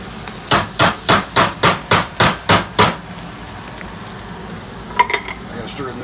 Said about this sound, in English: And now, we're stirring in the tomatoes.